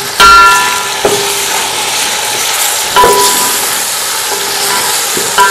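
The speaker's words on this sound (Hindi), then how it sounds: "अच्छी तरह इनको ना आलूओं को भूनते हैं इसमें लहसुन में।" Potatoes frying in garlic in a pan, a steady bright sizzle with a few soft clinks of a utensil against the metal, close and alone.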